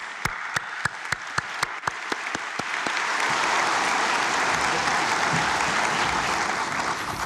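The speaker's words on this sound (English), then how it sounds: "please join me in a round of applause to celebrate the newest members of our teaching fraternity" At a teachers' investiture ceremony, a few isolated, evenly spaced hand claps ring out crisply before a full audience joins in, swelling into a dense, sustained round of applause.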